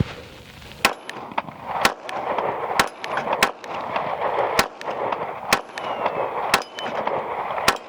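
A Glock 43X pistol firing 147-grain rounds outdoors, about ten sharp, loud shots at an uneven pace, each cracking out against steady background noise.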